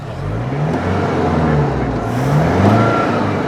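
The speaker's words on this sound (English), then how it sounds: "Let's give her a kick in the guts. There we go. Oh, we'll give her a big rev." A Nissan Navara D22 turbo diesel 4x4 dual cab ute engine revs hard, a loud, steady mechanical roar that swells and dips with throttle blips and stays close throughout.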